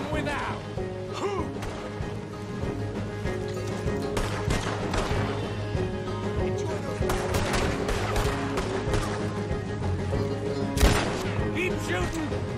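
Gunfire in the video game Red Dead Redemption 2 from pistols and shotguns: repeated sharp shots crack in irregular bursts over a busy mix of game sound and voices, with one louder blast near the end.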